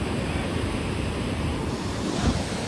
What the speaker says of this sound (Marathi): पण ऍक्च्युअल मधले मोठ्या लाटा आहे